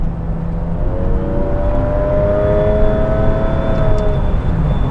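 A Porsche 996 with a Tiptronic automatic gearbox accelerates hard, its engine note climbing steadily and loud throughout, with a rising whine, no voices.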